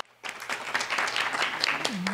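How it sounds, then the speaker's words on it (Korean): Applause breaks out at a Korean policy forum on digital networks to welcome a geographer speaker, starting abruptly after a short silence and continuing as a moderate, irregular clatter. "여러분 큰 박수로 청해 듣도록 하겠습니다"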